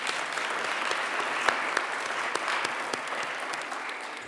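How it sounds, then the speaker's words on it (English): Steady applause from an audience at a school winter athletics awards night fills the room, even and sustained with scattered sharper claps. "Please give them a round of applause."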